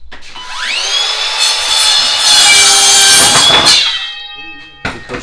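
A saw cuts through timber studs for first-floor stud walls, a loud, sustained rasping cut of about four seconds that ends abruptly, followed by a couple of brief knocks.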